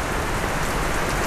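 Heavy rain falls at harvest time in a constant close wash of patter on surfaces, loud and unbroken, with no voices.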